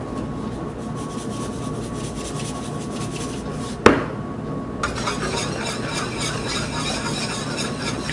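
A whisk stirs salt into a pot of liquid while cooking turkey, a continuous close scraping and swishing broken by one sharp metallic clank midway before the rhythmic whisking resumes.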